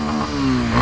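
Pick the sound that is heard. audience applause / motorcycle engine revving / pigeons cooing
motorcycle engine revving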